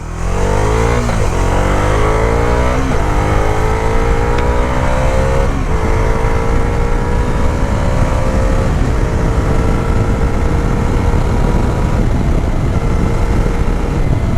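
A 2026 Bajaj Dominar 350 motorcycle pulling away in sport mode, its engine loud and close, revving up through several gears in rising sweeps with brief dips at each shift.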